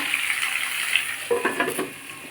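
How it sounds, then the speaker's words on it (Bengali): Bata fish with potato and papaya fries in a covered pan, giving a steady close hiss with a few soft clinks and knocks near the end. "ওটা আবার চাপা দিয়ে একটু ভাজবো"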